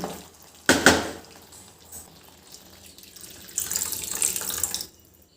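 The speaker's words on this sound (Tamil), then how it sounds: "கிரேவிக்கு தேவையான அளவுக்கு தண்ணி சேர்த்துக்கலாம்" A clink of cookware, then a brief splashing pour of water into a pan of paneer capsicum masala gravy, lasting about a second before it stops.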